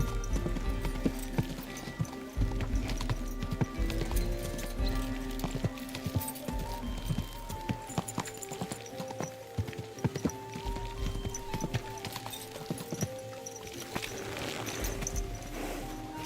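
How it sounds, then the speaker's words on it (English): Horse hooves clip-clopping in Kingdom Come: Deliverance 2, a steady rhythmic trot of close hoofbeats on hard ground with occasional snorts, under game music and ambient sounds. "Easy, good horse."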